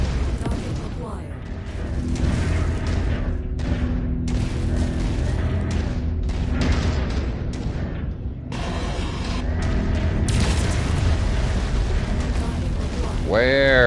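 Laser fire and explosions in the MechWarrior 5: Mercenaries video game: dense, continuous booming and mechanical clatter with bursts of weapon fire. A descending zap sounds near the end, and muffled voices come and go.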